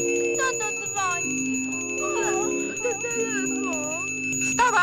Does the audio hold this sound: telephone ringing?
yes